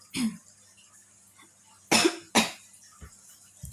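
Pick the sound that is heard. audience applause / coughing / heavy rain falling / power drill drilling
coughing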